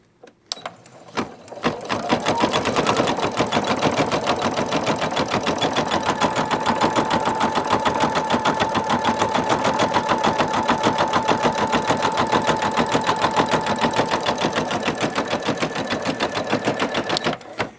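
A Singer Futura sewing machine running steadily through faux leather with a size 14 topstitch needle, a fast even mechanical chatter that starts after a couple of clicks and holds close and loud for the rest of the stretch, with no talking.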